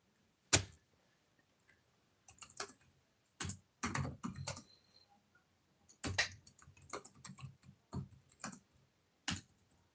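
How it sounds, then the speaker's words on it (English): Typing on a computer keyboard in irregular bursts of close, sharp key clicks separated by short pauses, with no talk. "I'm just typing it"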